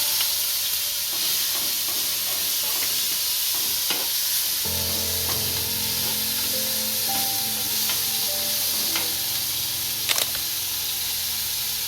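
Asafoetida and ginger-chilli paste hit hot oil, bursting into a loud, steady sizzle after a few seconds of quieter stirring and clinks, continuing close and unbroken with no talk.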